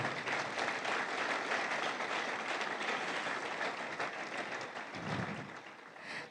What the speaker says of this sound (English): I'm going to wait for the applause to rise.